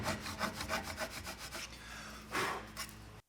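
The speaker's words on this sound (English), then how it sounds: "pulling the plane towards you. You shouldn't be exerting any downwards pressure." Hand plane strokes pulled across the face of a wooden tenon, a run of rhythmic rasping, shaving passes up close, then one longer smooth stroke before stopping.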